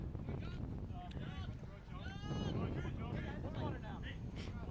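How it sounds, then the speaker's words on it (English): Low, rumbling wind buffeting the microphone continuously at an outdoor boys' high school soccer game, with faint distant voices and crowd noise underneath. "got cut off for a little second because it's so windy here"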